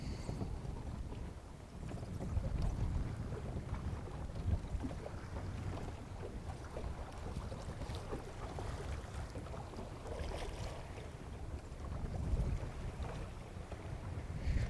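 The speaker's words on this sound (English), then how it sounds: "This wind just starting up." Wind gusting steadily over a lake around a fishing boat, a constant low rumbling buffet against the microphone with no speech.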